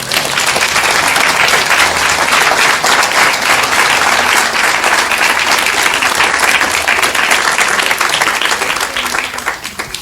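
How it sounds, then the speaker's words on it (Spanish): A church congregation claps loudly and steadily for a full stretch, a dense, sustained wave of applause that tapers slightly at the end. "¿Puede darle un aplauso al Señor?"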